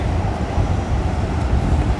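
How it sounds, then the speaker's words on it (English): A JR train passes along a Tokyo street, a steady low rumble of rolling wheels and motors filling the scene at close range with no pauses. "That looks like a JR train."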